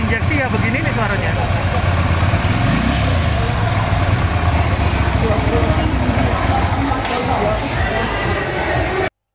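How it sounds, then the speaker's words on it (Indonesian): A Keeway Benda V252C fuel-injected cruiser motorcycle idles nearby with a steady, even rumble, and someone talks over the engine until it cuts off abruptly. "Tapi motor injeksi ya begini nih suaranya."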